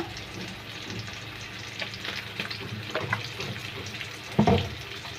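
Oil sizzles and crackles steadily in a hot pan before sardines are added, with a few louder spits and pops near the end.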